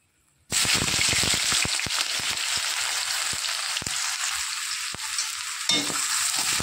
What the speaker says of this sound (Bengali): এবার দিয়ে দেবো আমি পেঁয়াজ কুচি।